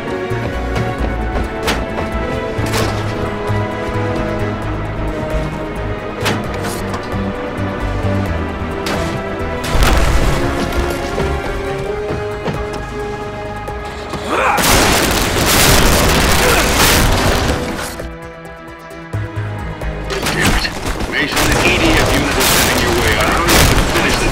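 Fuel tanks blow up in the video game Red Faction Guerrilla, loud booming explosions with crashing debris and sustained roaring blasts over a steady din of gunfire and machinery, dense and continuous.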